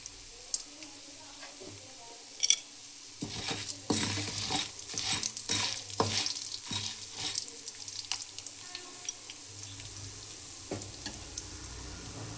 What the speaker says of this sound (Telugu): ఇందులోనే కొద్దిగా ఒక హాఫ్ స్పూన్ వరకు ధనియాలు వేసి ఫ్రై చేసుకోవాలి